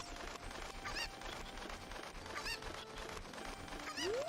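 Cucco chickens squawking in Ocarina of Time Randomizer, several short clucking calls spread across a steady bed of game music and ambience, moderately loud.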